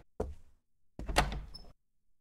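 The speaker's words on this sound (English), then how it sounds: "Who opened the door?" A door in the video game The Tape makes two distinct heavy thuds about a second apart, the second longer with a rattling creak, close and fairly loud against silence.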